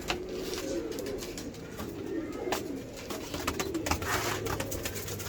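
Pigeons coo steadily in low, throaty murmurs, several birds overlapping nearby with a soft rustle and faint background noise throughout.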